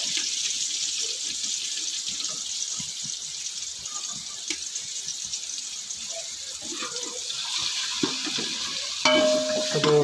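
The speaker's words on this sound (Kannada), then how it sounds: "ಅದು ಒಂಚೂರು ಮಿಕ್ಸ್ ಮಾಡ್ತೀವಿ ಎಣ್ಣೆಗೆ" Tomato, onion and ginger frying in oil while being stirred in a pan, a steady close sizzle with scraping and stirring noises throughout and louder clatter near the end.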